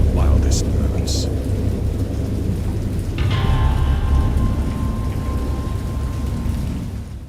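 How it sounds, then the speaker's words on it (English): Steady rain falls outdoors in a thunderstorm, a dense continuous wash with low rumbling underneath and a brief brighter hiss partway through. "Raining IRL right now, too."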